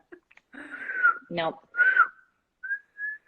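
Someone whistles a few wavering, breathy notes with short gaps between them, interrupted once by a brief vocal sound.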